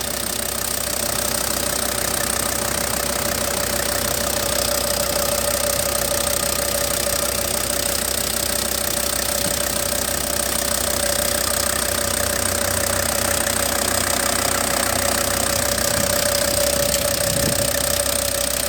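A 2004 SsangYong Musso Sports 4WD diesel engine idles steadily and loudly throughout, a constant rumbling drone with a persistent hum and no voices.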